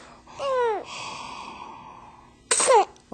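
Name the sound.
sneeze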